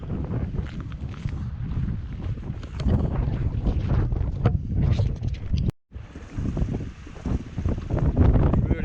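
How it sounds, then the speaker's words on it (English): Strong mountain wind on the West Highland Way buffets the microphone with a loud, steady rumble and gusty swells, cutting out briefly before roaring back. "Really windy now."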